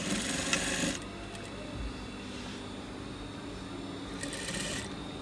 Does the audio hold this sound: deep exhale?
no